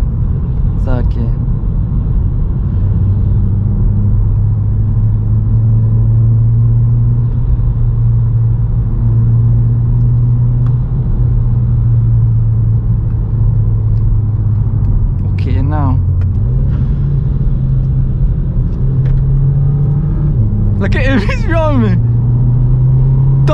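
A Volkswagen Scirocco pulls hard in third gear, its engine droning loudly and rising in pitch from inside the cabin, with brief excited voices and a few squeaks cutting in.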